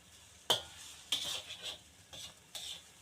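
Shrimp and scrambled egg with spring onion are stirred in a pan, a utensil scraping and clinking against the metal in several separate strokes over a faint background sizzle.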